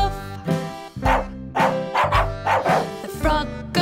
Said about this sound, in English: The dog goes woof.